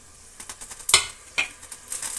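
Mustard seeds and sliced onion fry in a little oil in a pan, a soft sizzle punctuated by a few sharp spoon-and-pan clinks, close and brief.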